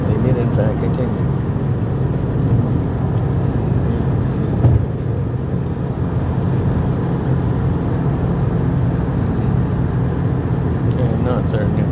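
A car drives along a road and passes another vehicle, with a loud, steady low engine and road rumble running throughout and a slight swell near the middle.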